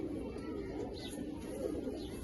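A big, well-kept pigeon of a desi breed cooing softly and steadily at close range, with low throaty murmurs running throughout and faint distant chirps.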